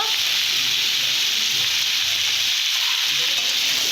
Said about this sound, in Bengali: লবণ দিয়ে ভালো করে কষে নেব